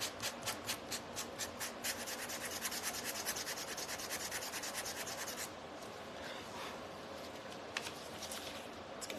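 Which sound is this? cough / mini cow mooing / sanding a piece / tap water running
sanding a piece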